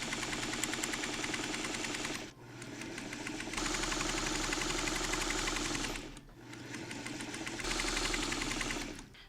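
A sewing machine stitches a quilt top in fast, loud, close mechanical chatter, running in two long bursts separated by brief pauses, with no talk over it.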